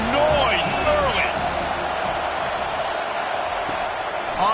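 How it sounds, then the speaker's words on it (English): A football stadium crowd roars steadily and loudly throughout, with whoops and cheers rising over a dense wash of noise while a commentator talks. "This crowd bringing the energy and noise early."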